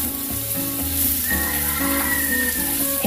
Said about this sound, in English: fry it until those tomatoes are soft